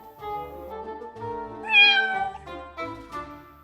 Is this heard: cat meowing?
yes